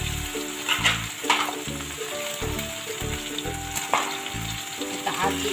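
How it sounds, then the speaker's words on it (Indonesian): Vegetables and noodles for Surabaya-style fried noodles sizzle and crackle steadily in a wok, with repeated scraping and clanking of the stirring utensil against the metal, close and continuous. "Kita aduk dulu semua sampai layu"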